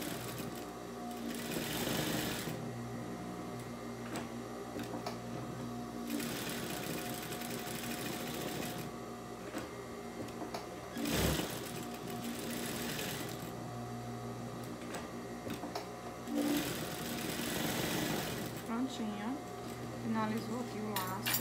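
Domestic sewing machine stitching around a square fabric bow for a cloth doll, running in several steady whirring bursts with pauses between them, close and clear, while someone talks at times.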